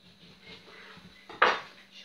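A knife cuts through a lemon on a kitchen board while artichokes are being prepared, giving one brief, close, crisp chopping knock over faint background noise.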